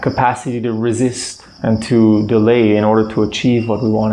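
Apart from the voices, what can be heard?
No everyday noise stands out behind the speech.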